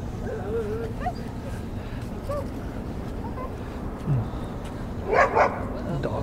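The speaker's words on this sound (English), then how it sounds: "Dog fight." Dogs yip and bark in a scuffle outdoors near the White House, a few sharp bursts late in the clip over steady street and crowd background noise.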